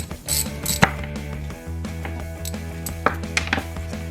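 Wrench working on the brake line at the rear caliper of a Mazda RX7 FC, a series of close, sharp metallic clicks and ratcheting knocks in an irregular rhythm over a steady background hum.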